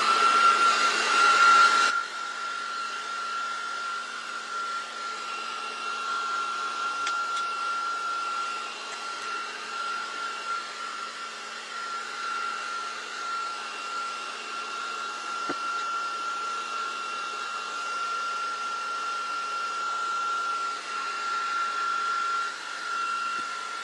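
A hairdryer runs steadily for the whole stretch, a loud, even blowing whir with a constant tonal hum and no talk over it.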